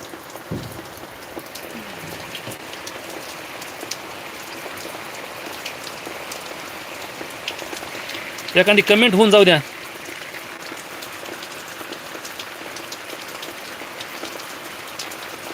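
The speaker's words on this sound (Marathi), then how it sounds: "पाऊस कुठं चालू आहे काय नाही कासारवाडी गावावर तर चांगला चालू आहे" Steady rain pours over Kasarwadi village, a constant broadband hiss throughout, with a brief louder splashing burst midway and a voice speaking faintly underneath.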